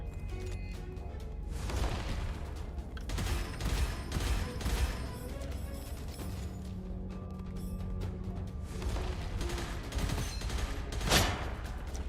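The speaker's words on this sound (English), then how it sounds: "big explosion there" Explosions and bursts of gunfire from the first-person shooter Gunfire Reborn, a dense, continuous barrage of loud shots and blasts with a sharp burst near the end.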